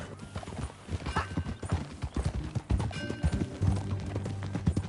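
Horse hooves clip-clop in an irregular rhythm as riders set off in Red Dead Redemption 2, close and clear, with a horse's whinny and snorts mixed in.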